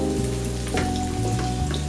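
Chopped red and white onions fry over raised heat in a pan, giving a dense, continuous sizzle heard up close under a steady low hum, with no voices.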